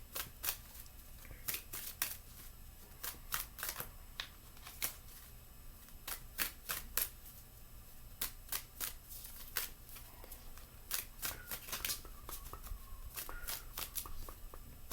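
A tarot deck is shuffled by hand in a quiet room, making repeated crisp card riffles and snaps in an uneven rhythm, close and fairly soft.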